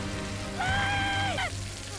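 Rain falls steadily in a scene from the Netflix live-action One Piece series, a continuous hiss broken midway by a sustained, wavering tonal cry.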